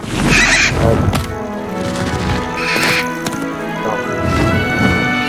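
Highwing the hippogriff in Hogwarts Legacy lets out loud, close, horse-like whinnying calls, several shrill cries spaced a second or two apart, with thudding steps between them.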